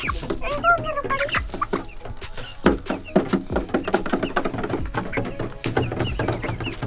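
Farm chickens cluck and squawk noisily while being fed, a busy close chorus of overlapping clucks punctuated by sharp knocks and pecking sounds, steady throughout.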